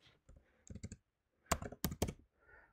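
Someone types on a computer keyboard in short, irregular bursts of close, crisp key clicks with brief pauses between them; the room is otherwise quiet and no one speaks.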